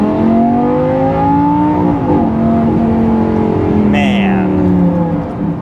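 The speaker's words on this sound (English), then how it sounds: "The engine is addicting to listen to. It is just glorious sounding." A Lamborghini Gallardo LP550-2 with aftermarket exhaust revving close by, the engine note climbing and falling in loud sweeping tones, with someone talking over it.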